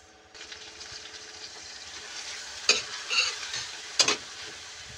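Onion, ginger and fish sauce frying in cooking oil in a wok, a steady sizzle with stirring and a few sharp spatula scrapes against the metal.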